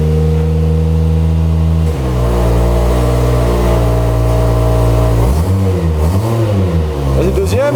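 A Toyota Chaser fitted with a GT86 differential revs hard as it pulls away in first gear, a loud steady engine drone rising in pitch and shifting sharply near the end, with background talk over it.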